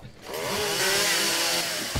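A chainsaw revs loud and steady in the zombie survival game 7 Days to Die, a continuous buzzing whine that holds for nearly two seconds after a brief quiet start.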